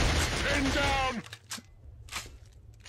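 Gunfire in the Killzone shooter: a dense burst of rapid shots at the start, then sharp single cracks after about a second, close and loud, with bits of speech over it.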